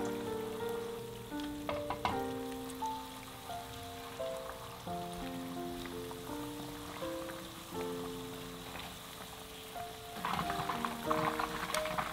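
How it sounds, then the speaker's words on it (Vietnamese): Marinated chicken pieces dropped into hot oil for homemade fried chicken, giving a steady close crackle and sizzle throughout, with a melodic tune playing over it and the frying swelling louder near the end. "bây giờ em sẽ cho vào để chiên"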